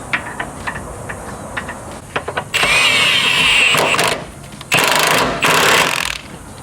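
A pneumatic impact wrench tightens a suspension bolt under a Volkswagen Golf R (MK8), firing in a few loud, sustained rattling bursts after some lighter clicks and handling noises.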